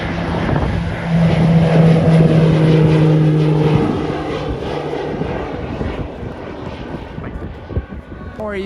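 Propeller airplane engine at a skydiving airfield in Kuwait, a loud, close, sustained droning roar with a strong low tone that swells early and then gradually eases.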